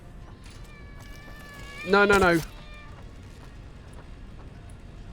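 A single loud, drawn-out cat meow from the video game Satisfactory cuts in briefly over quiet background hum while a person speaks.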